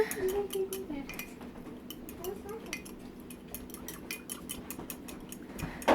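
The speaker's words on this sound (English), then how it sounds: "just take a fork, mix this stuff up really good" A fork rapidly clinks and scrapes against a dish while mixing seasoning powders, giving a quick run of light metallic taps close by, with faint background noise and a brief voice-like murmur.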